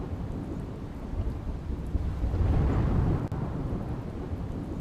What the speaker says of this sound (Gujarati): અમદાવાદ શહેરના વિવિધ વિસ્તારોમાં વરસાદની એન્ટ્રી.